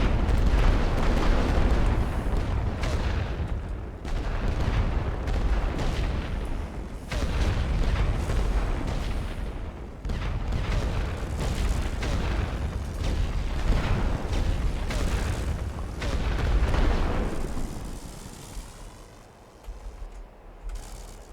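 Artillery barrage in The Great War: Western Front: heavy booms and rumbling explosions roll one after another in loud, dense waves for about twenty seconds with no voices.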